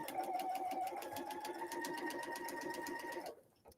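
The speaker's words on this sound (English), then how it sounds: "we're going to go to the machine and we're going to stitch the next seam" A sewing machine stitches a seam on a paper-pieced fabric tea cozy, its needle thumping in a fast, even rhythm up close before stopping abruptly near the end.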